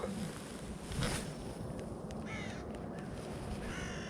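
Birds call outdoors in a quiet early morning setting at a grassy freshwater fishing spot in Ömerli, Turkey, with a few harsh caws standing out over faint chirps and light wind.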